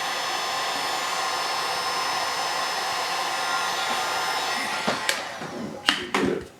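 A heat gun or hair dryer blows a steady, loud rushing whoosh onto the center dust cover of a speaker cone. The airflow runs unbroken for several seconds, then ends with a few handling knocks.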